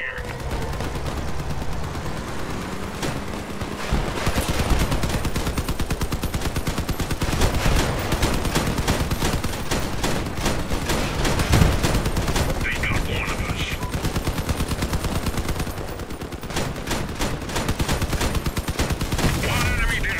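Rapid, sustained fire from two auto cannons in the game Crossout rattles on for the whole stretch, loud and dense, with brief pauses between bursts.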